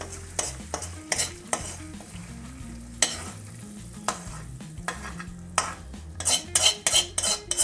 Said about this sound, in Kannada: ಇವಾಗ ಇದೇ ಕಾವಲಿಯಲ್ಲಿ ನಾನು ಇವಾಗ ತರಕಾರಿನೆಲ್ಲ ಸ್ವಲ್ಪ ಬಾಡಿಸ್ಕೊಳ್ತಾ ಇದ್ದೀನಿ